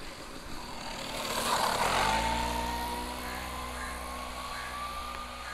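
A Yamaha MT15 BS6 motorcycle engine running, swelling to a loud rev around the middle and then settling into a steady, close idle hum, heard alone.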